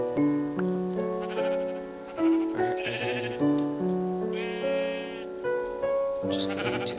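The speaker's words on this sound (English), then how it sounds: "Ooh, sheep, we need that for a bed." Minecraft sheep bleating repeatedly, a series of close, loud, wavering baa calls overlapping one another in an irregular rhythm, with no talking.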